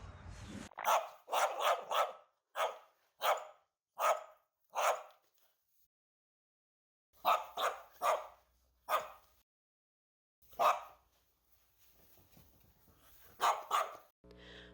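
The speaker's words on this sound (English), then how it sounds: "I was quick to open the camera app on my phone when the dogs began barking." Dogs bark outdoors in repeated bursts, loud and fairly close, with quick clusters of sharp barks separated by silent pauses and a few fainter yips between them.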